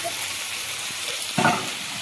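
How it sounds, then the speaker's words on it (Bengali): Meat sautéing in a pan with salt, a steady close sizzle and frying hiss throughout with a brief louder burst of stirring near the middle. "আর দেখো এই যে কষা হচ্ছে এখন।"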